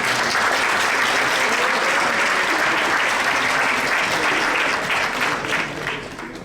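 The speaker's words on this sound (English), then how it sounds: "So please give him a round of applause." Applause from an audience at a school event, steady and loud with many hands clapping together, holding throughout before tapering off at the end.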